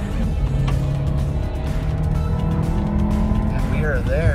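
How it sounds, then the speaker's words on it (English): A 2020 Volkswagen Cross Sport with a 2.0 turbo four-cylinder accelerates hard from a standstill, its engine drone loud and steady with rising pitch through the run, and someone speaks over it. "Sounds good for a 4-cylinder."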